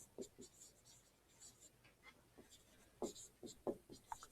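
Chalk or marker scratching on a classroom board in short, quiet strokes, faint at first and then a few sharper, closer marks toward the end, with no talk over it.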